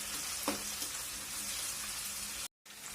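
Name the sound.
frying ginger garlic paste with onions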